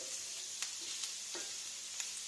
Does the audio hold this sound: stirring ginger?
yes